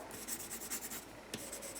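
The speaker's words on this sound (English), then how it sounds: "color with a pencil" A pencil colors on the back of paper with steady rhythmic scratchy strokes, close and dry, with one sharper stroke near the end.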